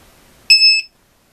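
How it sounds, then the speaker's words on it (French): A LiPo battery charger sounds a loud, shrill electronic alarm: one close beep lasting about a third of a second, then silence. "Donc ça doit biper comme ça quand la batterie est déchargée."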